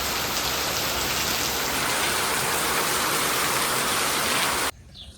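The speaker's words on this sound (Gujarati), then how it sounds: "ફૂલ વરસાદ ચાલુ થઈ ગયો છે." Heavy monsoon rain during Cyclone Biparjoy pours down in a dense, steady roar that fills nearly five seconds before cutting off abruptly near the end.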